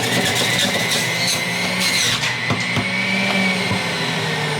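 A juicer running loud and close while juicing celery, a continuous whirring motor drone with steady hum and occasional grinding shifts as stalks feed through, no talking.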